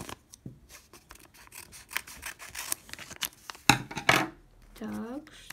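Paper surprise packet being torn and unwrapped by hand, a string of close crisp crinkles and sharp rips of varying loudness, ending in a brief soft rustle.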